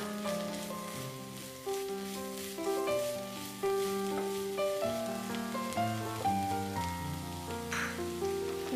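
Tomatoes hit frying cabbage in a pan and set off a steady, soft sizzle that runs the whole time beneath louder background music.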